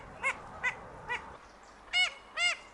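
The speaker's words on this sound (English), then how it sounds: "That's Billy's quack," Distinctive quacks of Billy, a duck, three short, evenly spaced calls followed after a pause by two louder, fuller honks, fairly close against a quiet background.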